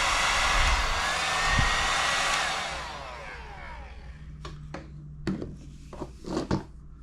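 A heat gun blows hot air over vinyl wrap on a Toyota Supra, a loud steady whooshing roar that winds down and stops, followed by scattered sharp handling clicks and taps.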